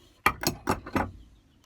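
Small screws being removed from a Sonor Signature HLD snare drum, giving four sharp, close mechanical clicks in steady succession, then quiet.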